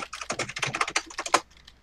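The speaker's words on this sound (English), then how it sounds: "that's what I was typing in" Quick, close clatter of keys typed on a computer keyboard, a dense burst of clicks for over a second, then a few faint scattered taps as it trails off.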